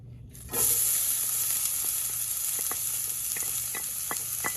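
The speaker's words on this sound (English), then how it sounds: "after the olive oil is hot, we're going to put our onions in" Onions dropped into hot olive oil for a ratatouille sauce burst into a loud, steady sizzle that starts suddenly and holds, with faint light clicks of stirring, close and with no talking.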